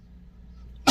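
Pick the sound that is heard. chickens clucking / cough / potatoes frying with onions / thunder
cough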